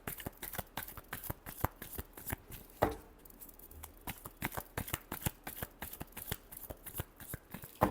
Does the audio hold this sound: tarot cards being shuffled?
yes